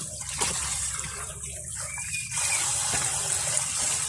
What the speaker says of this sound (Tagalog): Kaya hugasan na natin siya.